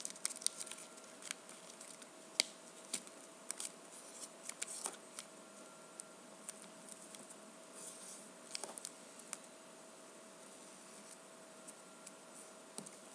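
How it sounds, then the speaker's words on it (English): Sheet of paper being creased by hand while folding an origami boat: faint, quiet crinkles, taps and sharp little clicks come at irregular moments over a soft steady background, with no talking. "Crease really well, and do the same to the other side."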